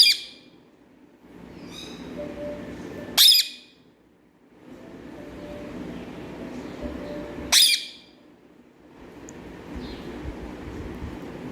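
A talking parrot gives two sharp, loud squawks several seconds apart, each a short harsh burst standing out over a steady low background rumble.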